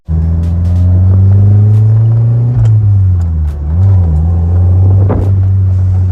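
A 1992 Toyota MR2 engine hums steadily and loudly while driving, with the pitch easing down and climbing again as the throttle is blipped for rev matching; no talking.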